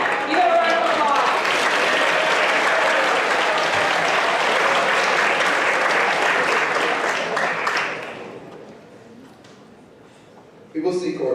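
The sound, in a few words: round of applause for a spoken word performer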